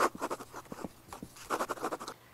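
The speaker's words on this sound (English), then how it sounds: "so we're going to write magnesium first." A marker squeaks and scratches across a board in short rhythmic strokes as a chemistry lesson is written out, close and fairly clear, with pauses between words.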